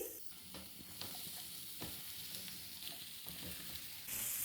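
Mashed potatoes mixed into spices roasted with fresh coriander in a pan for crispy aloo kababs, heard as a quiet, steady frying hiss with soft repeated scraping stirs throughout.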